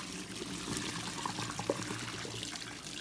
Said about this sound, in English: I'm just draining that water.